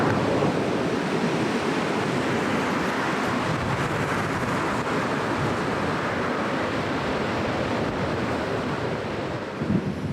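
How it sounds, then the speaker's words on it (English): Huge ocean swells break on a lava rock shore of Pico Island in the Azores, a loud, continuous roar of surf mixed with gusting wind noise on the microphone. "Really incredible waves here like I saw a few days ago."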